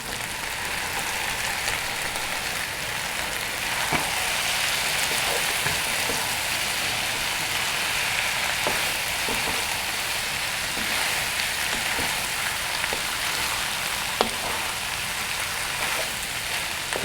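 Squid dropping into hot oil for a squid and egg sambal, giving a steady dense sizzle and crackle throughout with scattered sharper pops, close and fairly loud with no voices.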